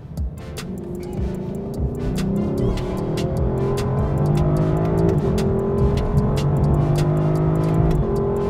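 A Lexus LC 500 grand tourer revs its engine under way, climbing and falling through gear changes. The exhaust note is loud and close, punctuated by sharp crackles, with no talking over it.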